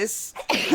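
A single abrupt sneeze, close and fairly loud, breaks into a casual podcast conversation about gaming and virtual reality, followed by a brief vocal sound.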